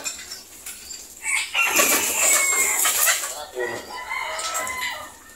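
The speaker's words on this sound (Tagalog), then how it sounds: "Ang ganda mga ibon guys." Lubar White Feather gamefowl roosters crow loudly and close, with overlapping calls and some clucking in a busy yard, and a rooster crow rising over the others.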